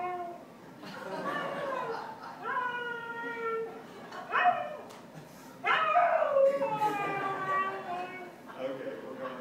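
A giant schnauzer dog vocalises from a played video, a series of howling, yipping calls and whines spread across several seconds, moderately loud with background room tone.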